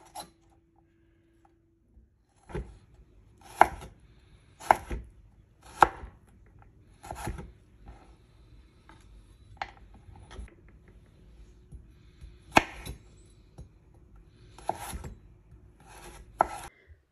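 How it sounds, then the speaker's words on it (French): A knife cuts two large carrots into strips on a board, giving crisp, separate chopping thuds at irregular intervals with quiet gaps and faint scraping between the cuts. "j'ai utilisé donc 2 grosses carottes que j'ai coupées en lamelles"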